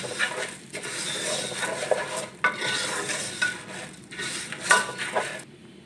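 Vermicelli fries in melted butter while being stirred, scraping and clattering against the pan in repeated strokes over a soft continuous sizzle, close and fairly loud, with a brief drop to near silence at the very end.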